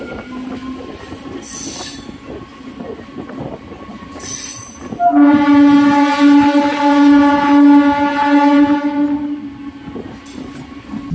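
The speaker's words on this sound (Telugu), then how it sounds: "మన ట్రైన్ 11 గంటల 18 నిమిషాలకు జనగాం రైల్వే స్టేషన్ చేరుకుంది" A MEMU passenger train at Jangaon railway station, Telangana, rumbles with squealing wheels, then its horn blares in a loud, sustained, multi-tone blast that holds for several seconds, close by.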